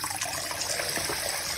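Tap water splashing and gurgling into a fish tank as it fills over sand, a continuous close trickle with small bubbling surges, no talking.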